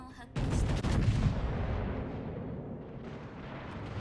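A Montana battleship in World of Warships fires a salvo of armour-piercing shells: one sudden, loud, booming blast whose deep rumble trails off slowly over several seconds.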